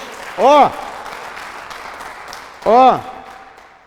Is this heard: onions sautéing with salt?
no